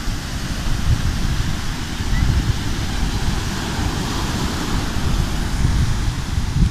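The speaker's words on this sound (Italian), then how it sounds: "Mezzo alle onde." Sea waves at a beach, a steady heavy roar of surf with wind noise buffeting the microphone, loud and continuous throughout.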